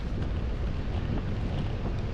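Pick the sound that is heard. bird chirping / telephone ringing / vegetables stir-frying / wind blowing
wind blowing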